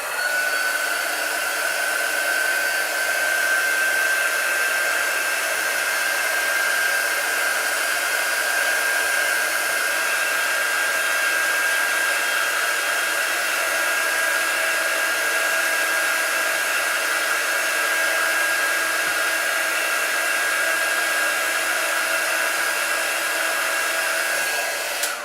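A hair dryer blows steadily over chalk artwork, a loud, close, continuous whooshing hum with a faint high whine, running unchanged throughout with no voices.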